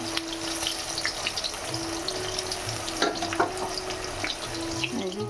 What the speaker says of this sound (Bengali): তো আমি তার জন্য আবার এই যে ভাজছি, এটা একটু কড়মড়ের মতো হয়ে যায়।